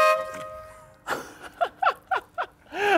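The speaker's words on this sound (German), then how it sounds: "Da sind zwei Hupen." Two-tone horn on a Ferrari 512 BBi, giving a steady note followed by four short, separate honks in quick succession and a longer blast at the end, heard up close.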